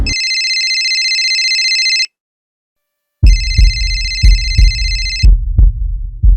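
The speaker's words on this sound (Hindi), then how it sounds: "मैंने विजय को शाम 4:55 को फोन किया।" A loud electronic mobile phone ring chirps continuously, pauses for a second, then rings again while heavy thumps and bumps sound underneath.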